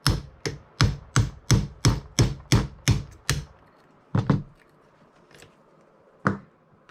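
A 1.3 mm hex driver tapped against the pin of a CZ P-09 airsoft pistol gives a run of about ten sharp, evenly spaced metallic taps, then a few scattered single knocks, close and loud with no talk.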